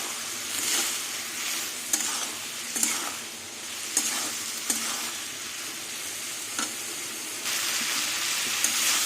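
Spices sizzle in oil for a snake gourd curry, a continuous frying hiss broken by regular scrapes and taps of a spatula against the pan, close and steady, with no speech.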